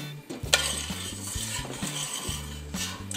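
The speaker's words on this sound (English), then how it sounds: "Make sure you have a partner with a spoon and a steady stir as you're adding your onions to get them evenly distributed across the bottom of the pan" A spoon steadily stirs onions around the bottom of a pan in a home cooking setup, giving repeated rhythmic scraping and clinking strokes with a light sizzle underneath, close and fairly quiet, no talking.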